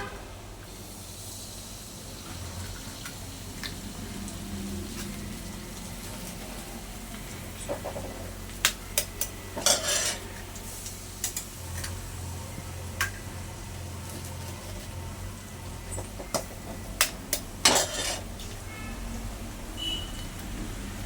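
Six eggs fry with browned onions in a pan, giving a low steady sizzle and hiss, broken by scattered clicks and scrapes as the mixture is stirred close by.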